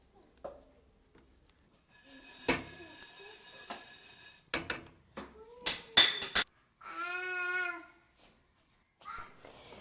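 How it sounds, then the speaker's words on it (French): Sesame seeds toast in a dry frying pan over medium heat. The pan scrapes and clatters in scattered bursts, with metallic clinks and a brief squeaky rattle among quiet gaps. "je commence tout d'abord par faire griller 2 grandes cuillères à soupe de grains de sésame à la poêle sur feu moyen"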